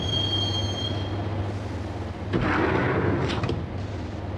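A train ride in Max Payne, a low steady rumble of rolling carriages with a thin whine early on, then a louder burst of clanks and metallic rattles near the middle before settling back.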